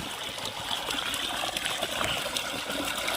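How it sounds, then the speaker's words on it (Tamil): Water gushes at full flow from the 3-inch outlet of a 5 HP BLDC solar water pump in a steady, broad rushing splash close by. "மூணு இன்ச்சு ஃபுல் டெலிவரி தண்ணி பாருங்கள்"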